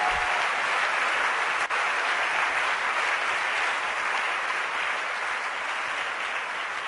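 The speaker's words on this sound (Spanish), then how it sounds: "dale un aplauso fuerte al Señor" A church congregation applauds loudly and steadily throughout, a dense, continuous wash of clapping with no pauses and no talk over it.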